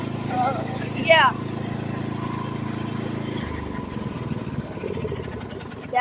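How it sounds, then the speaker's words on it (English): A riding lawnmower engine runs at a steady idle with a constant low drone that shifts in pitch partway through, while a person talks over it. "That's how you start a riding lawnmower and drive it."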